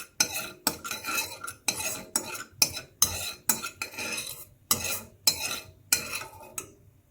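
Sugar caramelizes in a pan while a utensil stirs it, making a run of about ten sharp, rhythmic scraping strokes against the metal, close and fairly loud, over a faint sizzle, with no talking.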